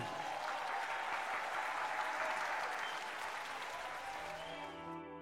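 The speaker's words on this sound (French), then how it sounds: "je vous demande de bien vouloir encourager avec vos applaudissements Miss Indira Sharma ainsi que Monsieur Jazzy" Audience applause encouraging a couple being introduced, a thick, continuous wash of clapping that holds steady, then fades slightly as music tones rise at the end.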